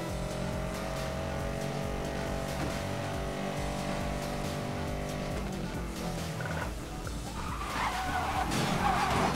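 A car drifts in Need for Speed Most Wanted, its engine droning loudly as tires skid and squeal continuously, with a rougher scraping stretch near the end.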